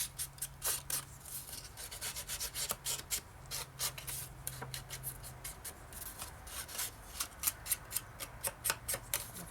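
Close, quiet rubbing and dabbing as ink is worked onto folded paper edges for scrapbooking, a quick irregular series of soft scratchy strokes with brief pauses.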